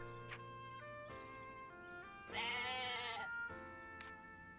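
A goat bleats in the Atelier Ryza video game, with a loud, wavering harmonic cry in the middle among other tonal game sounds and short chimes.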